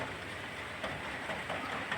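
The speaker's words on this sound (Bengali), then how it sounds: "বৃষ্টি পরে টুপুর টাপুর," Steady rain falling outdoors, a continuous even hiss with faint patter and no voices, soft and distant-sounding throughout.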